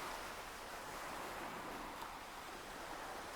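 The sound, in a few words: ocean waves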